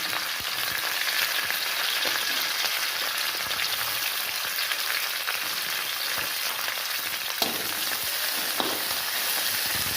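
Onions, curry leaves and green chillies fry in hot oil for a restaurant-style aloo fry, giving a dense, continuous sizzle and crackle with a few sharper pops, close and steady throughout with no voices.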